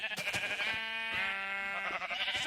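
Video game sheep let out a loud, close, wavering bleat lasting about two seconds, with fainter clicks and bumps around it.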